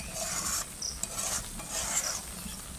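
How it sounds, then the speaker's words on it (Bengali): Cream skimmed from cow's milk simmers into ghee in a village kitchen pan, giving a soft, steady sizzle and bubbling under scraping stirs of a spoon, close-up and with no talking. "তো দুধের শরটা থেকে ঘি বেরোনো শুরু হয়ে গেছে"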